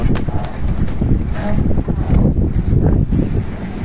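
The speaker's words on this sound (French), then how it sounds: "Ça c'est le vent continu." Strong, steady coastal wind on Lanzarote roaring across the microphone with low rumbling buffeting, continuous and loud, with no talking.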